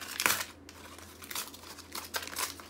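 A plastic mail package is torn open by hand, with bursts of crinkling and ripping plastic in short uneven pulls, close and fairly loud.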